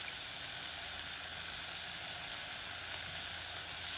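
Onions and mushrooms sauté in a pan with thyme, rosemary, salt and pepper, giving a steady, even sizzle at moderate level with no talking.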